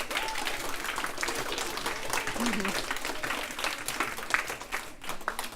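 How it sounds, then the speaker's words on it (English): Steady applause from a crowd at an elementary school Battle of the Books event, broad and continuous for several seconds, with scattered louder claps rising out of the wash of sound. "That's another round of applause."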